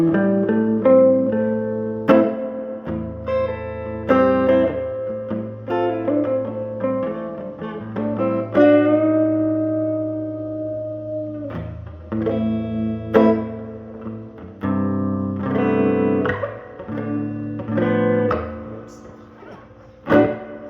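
Clean electric guitar chords and picked notes ring out through a Sound Salvage 43 Reverb "Radiation King" amplifier with its reverb on, with a lingering reverberant tail, played alone without any talking.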